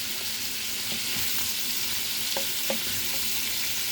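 Shrimp fry in a pan with a constant, even sizzle and hiss, plus a few light taps and clicks of a utensil, heard up close at moderate level with no voices.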